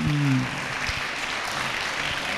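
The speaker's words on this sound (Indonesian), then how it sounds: "tepuk tangan sekali lagi untuk ini ya" An audience claps throughout, a dense and steady patter of many hands, with a voice trailing off under it at the very start.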